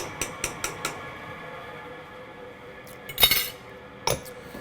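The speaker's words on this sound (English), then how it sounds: "Stir it in there, make it all even." A utensil clinks against a pot of Manhattan-style clam chowder with tomatoes and bacon: a quick run of four light taps, then quiet, then two louder metallic scrapes and knocks.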